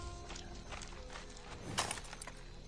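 Horse hooves clip-clop in the video game Far Cry 6, a quiet, steady run of hoofbeats with a louder thump near the middle, heard alone without talk.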